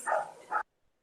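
Two short barks from a dog, close and fairly loud, the second following quickly after the first, then sudden silence.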